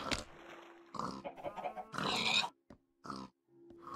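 A pig in the Minecraft video game grunts and oinks in a series of short snorting bursts with brief gaps between them, close and fairly loud, with no speech.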